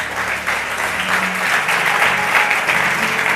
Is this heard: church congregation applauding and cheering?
yes